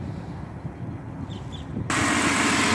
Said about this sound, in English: I've started the vehicle up to try to get that bar stop leak to circulate